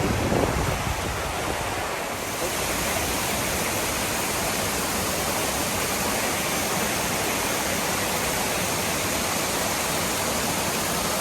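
A steady, loud rush of falling water from a waterfall on Nepal's Annapurna Base Camp trek fills the space without a break, a dense broadband roar with no voices.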